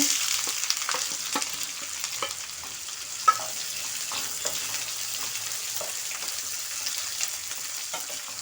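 Finely chopped onions fry in a pan with a steady hiss and crackle, occasional soft pops and stirring scrapes, close and moderately quiet with no talking.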